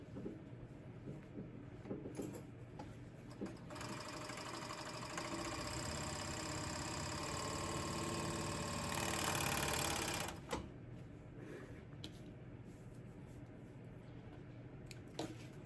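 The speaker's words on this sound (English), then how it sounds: "Some of the elastic got away, so I am about to sew that little piece." A sewing machine stitches a small loose piece of elastic, its steady motor whir rising into a loud, continuous run for several seconds before stopping, with quieter handling noises before and after.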